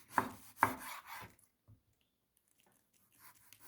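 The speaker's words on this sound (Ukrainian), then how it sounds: "Баклажанчик обрізаю з обох боків і нарізаю подовж" Two sharp knife cuts lengthwise through an eggplant on a board, a quick squishy slice followed by a pause and faint handling sounds.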